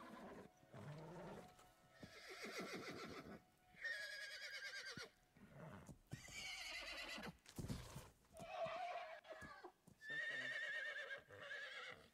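A horse neighs and whinnies repeatedly in bursts over several seconds, loud and close, with shrill calls separated by brief pauses.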